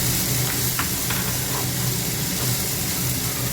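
Spice paste sizzles and hisses steadily in a hot pan, a continuous close frying crackle with a low hum underneath and no talking.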